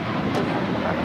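A passenger jet taking off from the south side of LAX, heard as a steady, fairly loud broadband roar that holds even throughout with no breaks.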